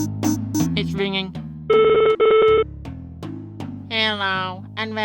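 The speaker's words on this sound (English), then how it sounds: "It's ringing." A telephone rings in the adventure game Rowen's Grand Adventure. It gives two loud, steady electronic tone bursts in the middle, set between garbled character voice sounds.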